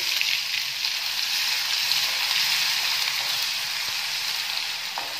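Ginger, garlic and onion paste sizzles in a hot pan, a steady, close crackle of frying that continues evenly with no talk.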